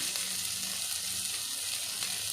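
Ginger and garlic sizzle steadily in a hot pan for gongura pulao, a continuous close, even frying hiss with no voices.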